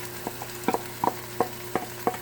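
A spoon scrapes and taps in a pan as crushed tomatoes are stirred into meat sauce, about seven soft, evenly spaced knocks over a low background hum.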